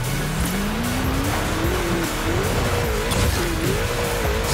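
A Chevrolet Trailblazer working its way down a rocky mountain trail, its engine droning steadily and loudly under a rising, wavering whine, with crunching and rumbling from the rough ground throughout.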